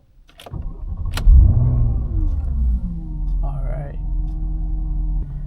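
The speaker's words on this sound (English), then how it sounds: "Let the car prime real quick" A Porsche Cayenne engine starts with a couple of sharp clicks, then settles into a steady low idle rumble while warming up, holding evenly throughout.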